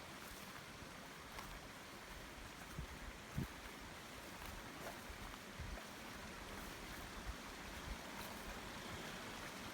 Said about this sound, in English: the creek is really running nicely today